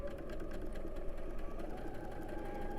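A sewing machine stitches a quilt block along a marked line, producing a steady rapid whirring hum with fine rhythmic needle ticks, continuous and close.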